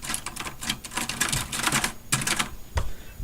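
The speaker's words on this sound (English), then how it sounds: "That is a typewriter." Typewriter keys clack in quick irregular bursts with heavier thuds as the typebars jam, close and loud, with no talking.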